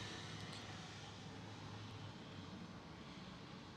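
A British Airways Airbus A320neo at London Heathrow gives a steady, fairly faint and distant engine roar that holds evenly for the whole stretch, with no voices over it.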